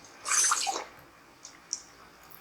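One short, splashy burst of water being drunk in the survival game Stranded Deep, close and soft, followed by a couple of faint drips.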